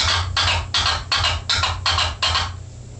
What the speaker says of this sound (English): and the twiddle would be like this.